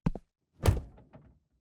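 A door thuds shut with one solid, close slam, preceded by a short knock-like tap and followed by a faint rattle as it settles, in a quiet room.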